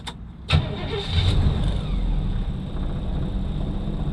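A Jeep engine catches with a sharp start, then settles into a steady, low, slightly rough idle, close and continuous with no talking.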